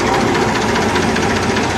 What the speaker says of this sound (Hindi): क्या शानदार आवाज़ है ट्रैक्टर की